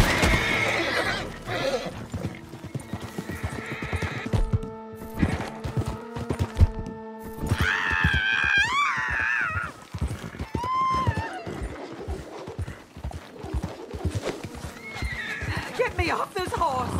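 Horse whinnies and clip-clopping hooves in the video game Red Dead Redemption 2, with loud neighs standing out over continuous game sound and people talking throughout.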